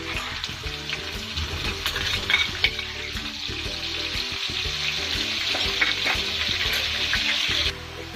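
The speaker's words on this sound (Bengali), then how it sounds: "এবারে এই মাছ ভাজা তেলের ভিতর দিয়ে দেবো পেঁয়াজ বাটা দেড় টেবিল চামচ পরিমাণ" Onion paste, about one and a half tablespoons, sizzles steadily in oil left from frying fish for a mustard hilsa dish, with a loud, continuous broadband crackle and occasional stirring clatter, no voices, dropping slightly at the very end.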